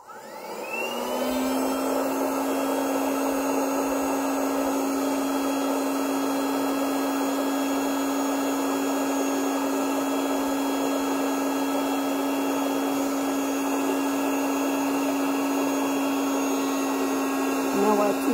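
A portable electric air pump inflates an 11-inch ball, a loud steady motorized whine with a constant hum that spins up quickly and runs unbroken for the whole stretch, close to the listener.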